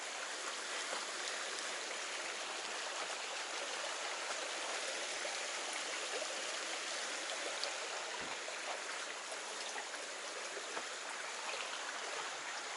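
A small stream flows beside a hiking trail in the foothills, giving a continuous, even rush and trickle of water at moderate level, unbroken and with no talking.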